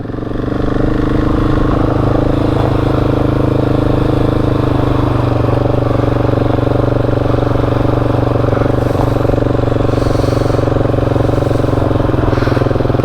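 An adventure motorcycle rides off-road trails on the TET in Spain, its engine droning steadily and loudly close to the microphone with little change in pitch.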